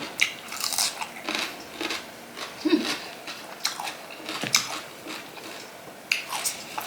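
Crisp, close crunching and biting of fresh raw vegetables with a Thai-style cucumber papaya salad made with fermented fish sauce, repeated irregular bites and chewing throughout with no talk.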